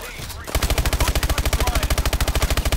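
Rapid automatic gunfire from the video game Call of Duty: Advanced Warfare, a fast even burst of about twenty-five loud punchy shots after a brief lead-in, close and dominant.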